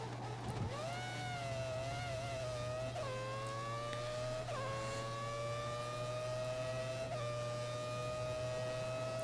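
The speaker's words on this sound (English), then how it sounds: "the car behind is running on full revs" A Formula 1 race car engine in the F1 2014 racing game, a steady high whine climbing through the gears with several quick upshifts, loud and continuous over a low constant hum, with no talking.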